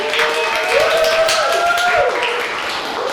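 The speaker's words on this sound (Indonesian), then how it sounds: "itu tepuk tangan dulu untuk Minasan" Hands clapping together in a Japanese-language micro-teaching class, a steady mid-level patter of claps running through the whole moment with a voice sounding over it.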